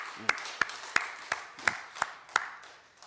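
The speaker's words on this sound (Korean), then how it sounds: "다시 한번 박수로 우리 하나님을 찬양합니다" A church congregation claps in praise of God. Seven sharp, separate claps ring out at a steady rhythm with a slight echo, fairly faint, with no talk over them.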